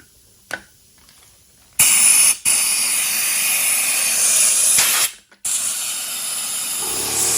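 Compressed air blasts dirty power steering fluid out of the lines on a Chevy Traverse, a loud sustained hiss that starts after a brief pop, cuts out for a moment and resumes, with no talking.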